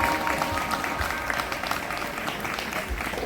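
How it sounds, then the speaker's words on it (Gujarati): An audience claps for performing artists at a devotional evening event, a dense burst of applause with a few louder claps standing out, heard close and steady for the whole few seconds. "બધા જ કલાકારો માટે એકવાર ફરીથી જોરદાર તાળીઓ થઈ જાય"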